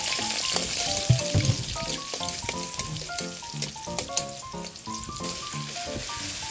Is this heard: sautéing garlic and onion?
yes